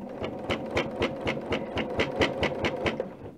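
Sewing machine stitching through several layers of already quilted fabric: a close, steady mechanical whirring with rapid, evenly spaced needle thumps, running continuously without pause.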